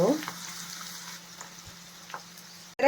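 Poha and dry red chillies frying in oil, giving a steady, moderate sizzle with a few light stirring ticks and a sharp clatter at the very end.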